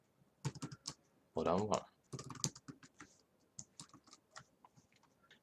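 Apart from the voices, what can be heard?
typing on computer keyboard while coding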